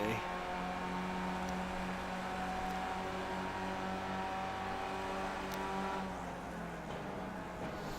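A race car on track at Virginia International Raceway, its engine note a loud continuous drone heard from the cockpit that shifts pitch as it slows under braking.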